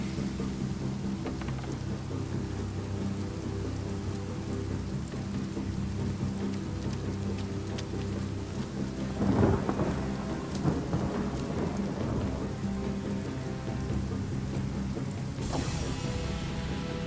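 Steady rain pours continuously while thunder rumbles in the middle, a low rolling crack that fades into the downpour, in the video game Divinity: Original Sin Enhanced Edition.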